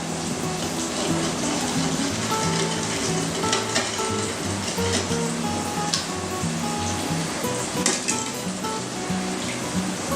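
Fish curry in a pan being mixed with chili powder, salt and turmeric, giving a continuous close sizzle with soft stirring and scraping sounds, alone and without speech.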